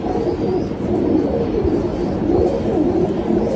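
Pigeons coo in a loft, their soft repeated low coos rising over a dense steady background murmur of many birds, close and continuous.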